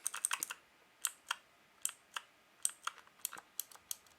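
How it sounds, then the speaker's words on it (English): Someone types on a JK-TECH E-Element Z-88 mechanical gaming keyboard with blue switches, making sharp, clicky keystrokes close by in irregular single presses and quick clusters with no voices. "So just pressing on the keys"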